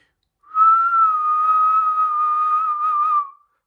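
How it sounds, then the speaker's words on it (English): One long, loud, steady tone whistled without fingers holds for about three seconds, alone and clear. "I can whistle super, super loud"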